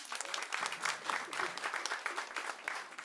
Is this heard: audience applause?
yes